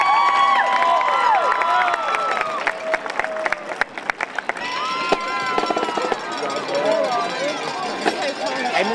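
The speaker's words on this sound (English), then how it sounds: "Let's give them a round of applause." A crowd at a homecoming court crowning for Mr. and Miss Panther breaks into scattered clapping and cheering, mixed with chattering voices, shouts and sharp pops, busy and fairly far off.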